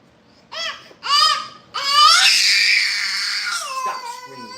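A young child screams and cries at close range, loud and sharp: two short wails, then a long sustained high-pitched scream that tapers into sobbing.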